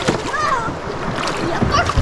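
Water splashes and sloshes as a boat is emptied on a river during a camping trip, short close bursts mixed with excited voices, including a child's, talking over them.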